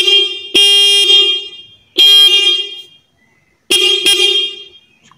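A cheap, loud aftermarket horn on a Honda Vario scooter blares in three bright, piercing honks, each lasting about a second or more with short gaps between, close and alone with no voices.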